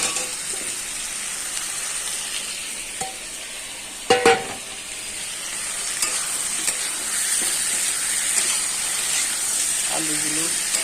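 Potatoes fry in a pan on the stove, giving a moderate, steady sizzle. A few sharp clatters of a utensil against the pan come through, along with a short stretch of faint voice.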